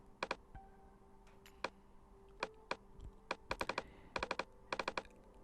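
Keys on a computer keyboard are typed in Photoshop, with sharp, close clicks landing in short irregular bursts and quick rapid runs between pauses, fairly quiet and with no voices.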